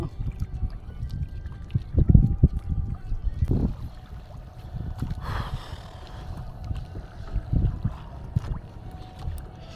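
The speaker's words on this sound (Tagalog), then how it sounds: "Nagandar pala yung bangka." A small boat motor putters along with water sloshing and knocking against the hull, steady and close, with a few louder thumps, off Cagbalete Island, Mauban, Quezon.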